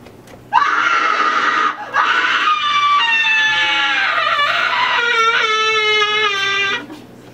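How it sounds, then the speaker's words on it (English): A woman's loud, sustained scream rises and wavers for several seconds, breaking off briefly before returning in strained, sobbing cries inside a castle under siege, with no speech over it. "It's the cry of woman"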